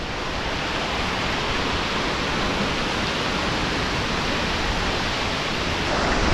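Penchulakona waterfall roars close by as a thick, unbroken wash of falling water, loud and steady from start to finish with nothing else cutting through.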